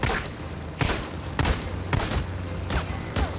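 Gunfire in the video game Days Gone, a handful of loud, evenly spaced shots cracking out over a constant background din.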